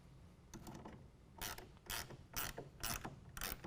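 A clamp on a Gator FX3 tonneau cover rail is tightened on a 2019 Chevy GMC 1500 truck, giving a series of ratcheting clicks in short bursts roughly every half second, close and quiet.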